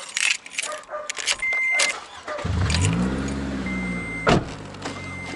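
A car with a fake manual shift boot fitted starts up after keys jangle, then its engine drones and rises steadily as it pulls away, fairly close.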